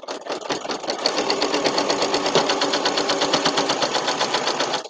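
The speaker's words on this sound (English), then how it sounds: "So we're going to stitch along." A sewing machine stitches a quilt-as-you-go potholder in one continuous, rapid, evenly pulsing run, close and steady throughout.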